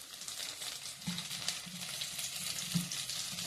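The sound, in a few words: tomatoes frying with spices in a pan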